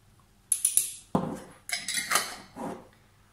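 A spoon scoops mustard from a jar for a leek quiche, producing a few close metallic taps and clinks against the container in three or four short bursts, with no talking.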